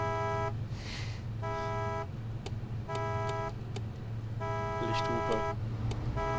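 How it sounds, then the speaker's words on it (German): Truck horn honking in the off-road driving game SnowRunner, several sustained blasts of a loud, harmonic horn starting and stopping in bursts over a steady low engine rumble. "Und extra hupen."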